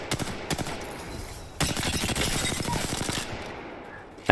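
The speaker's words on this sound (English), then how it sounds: "this gun is pretty good. I kinda like it. It's pretty accurate." Rapid gunfire from a fairly accurate weapon in the shooter game Apex Legends, a few scattered shots followed by a sustained automatic burst of about a second and a half, with game ambience around it.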